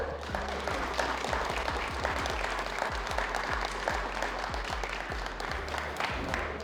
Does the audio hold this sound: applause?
yes